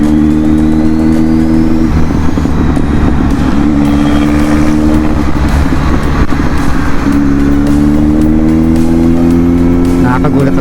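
Motorcycle engine on a Sunday morning ride at Vermosa, loud and steady with rising and falling rev tones, a tricycle engine passing close alongside, and talk over the noise.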